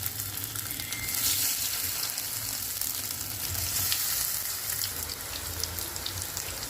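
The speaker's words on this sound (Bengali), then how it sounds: "তেল গরম হয়ে গেছে, আমি ছেড়ে দেবো সোয়াবিনগুলোকে।" Soybean chunks drop into hot oil for a chili soya dish and fry with a steady, loud sizzle and crackle. It runs continuously with light stirring scrapes and no talk.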